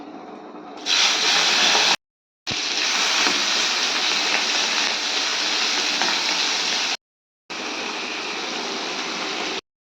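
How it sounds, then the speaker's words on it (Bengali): Raw prawns sizzle and spit loudly in hot oil in a Bengali home kitchen, a dense, steady crackling hiss that runs almost unbroken across the stretch, cut by two short silent gaps. "চিংড়ি মাছটা এবার ভেজে নেব"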